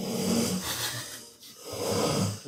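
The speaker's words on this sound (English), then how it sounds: "His snoring's terrible." A man snoring in two long, heavy rasping breaths with a quiet gap between them, close and loud with no talk.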